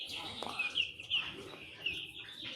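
Eight-day-old chicks, active and feeding, chirp and peep in a steady run of high, close calls, several birds overlapping with short bursts throughout.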